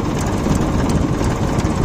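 A Mahindra 265 tractor's diesel engine runs steadily at a rural riverside field, a continuous low rumbling drone with slight pulsing, close and fairly loud, with no talk.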